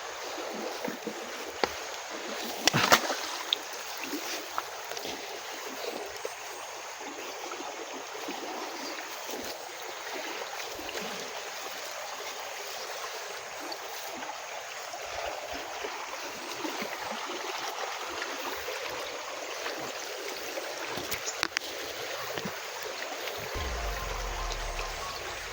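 A deep river rushes steadily as it is crossed, with a broad constant wash of flowing water and a few sharper splashes and knocks, with no voices over the sound.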